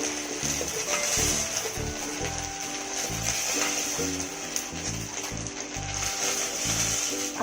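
Chhana kofta balls fry in hot oil with a steady, dense sizzle and bubbling, broken by rhythmic low clacks and scraping from a utensil in the pan, heard up close with no voices.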